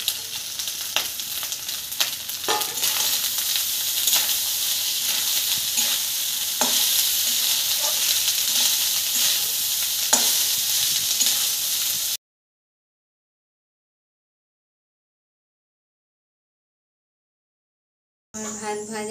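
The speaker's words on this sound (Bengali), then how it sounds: "এবার সব যখন ভাজা ভাজা হয়ে যাবে তখন আমি এর মধ্যে ভাত দিয়ে দিলাম" Cooked rice being stir-fried in a pan at home as a quick dinner, with a steady close sizzle and repeated scraping stirs for about twelve seconds, then silence before the frying briefly resumes at the end.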